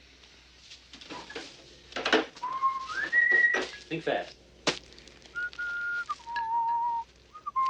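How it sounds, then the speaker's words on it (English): Someone whistles a slow, wandering melody in a quiet room, with soft clatter of dishes or drawers around it and a brief spoken line. "What was that song you were whistling before?"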